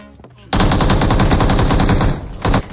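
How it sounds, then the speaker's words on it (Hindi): Automatic gunfire in the BGMI (PUBG Mobile) battle royale game, a loud rapid burst of shots lasting well over a second, followed after a short pause by another brief burst. "उतने में नीचे की ओर चलती है गोली"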